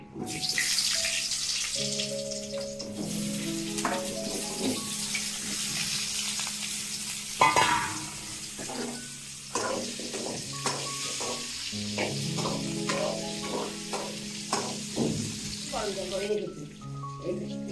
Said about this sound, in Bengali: তেল গরম হয়ে গেছে, আমি এখন আলুগুলো